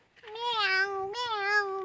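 A cat meows twice in a row, two drawn-out, clearly pitched calls heard close and fairly loud with no talking over them.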